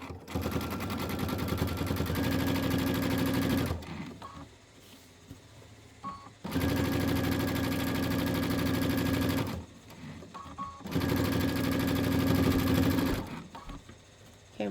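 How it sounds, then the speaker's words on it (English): A sewing machine stitching a quilt block seam, running in three long, steady, buzzing bursts with brief quiet pauses between them, loud and close. "now I will sew the whole seam and I'll go over that one more time"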